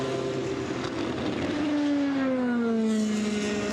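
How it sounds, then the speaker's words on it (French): Two endurance race cars at the 24 Hours of Le Mans sweep through the Porsche curves, a loud engine whine sliding downward in pitch as they pass close by, then fading. "Deux voitures qui passent à l'instant. Des virages Porsche."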